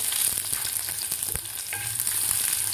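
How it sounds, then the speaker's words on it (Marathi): Chopped garlic fries in hot oil with cumin and mustard seeds for a tomato chutney, a close, steady crackling sizzle broken by stirring scrapes and a few sharp pops. "थोडासा गोल्डन होईपर्यंत आपल्याला लसूण परतायचं आहे"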